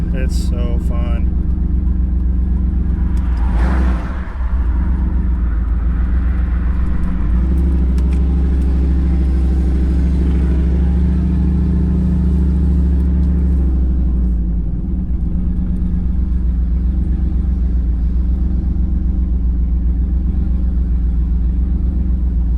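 A truck cruising to a car show, its engine giving a steady, loud low rumble from inside the cab for the whole stretch, with brief louder swells and passing road noise.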